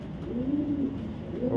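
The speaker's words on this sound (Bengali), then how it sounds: "কবুতরগুলো ডিমে রয়েছে, বাচ্চা সহ" Racer pigeons, a pair sitting on eggs with a chick, coo in a low, rolling murmur. The cooing carries on steadily and close by, rising and falling slightly, with no voices.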